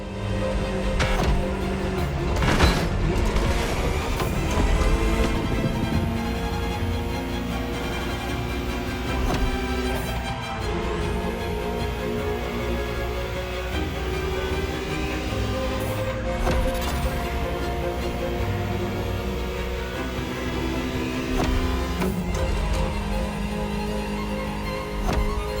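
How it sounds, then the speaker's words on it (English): Ferrari F50 driving in The Crew Motorfest racing game, a continuous engine drone with rising and falling revs and gear changes, loud and sustained with no talking. "Just listen to the car you're driving."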